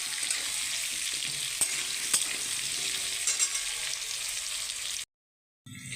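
Jackfruit frying in a pan, a continuous bright sizzle with a few light clicks of stirring, cutting to silence near the end before the sizzle resumes.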